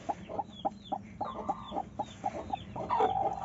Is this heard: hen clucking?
yes